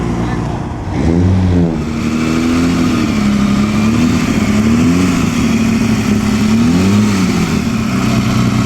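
A 1947 Fiat 1100 sedan on the Mille Miglia road rally, its engine rising and falling through revs close by, with a brief quieter moment before it pulls away steadily.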